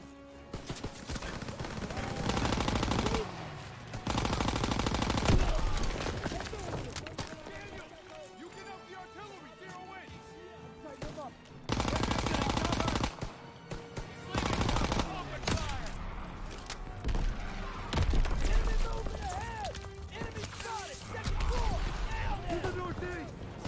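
Call of Duty: WWII gunfire comes in repeated loud bursts of rapid automatic shots separated by quieter stretches, with someone talking over much of it and running footsteps mixed in.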